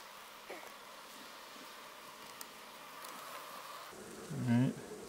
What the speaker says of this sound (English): now we're getting into the bulk of our bees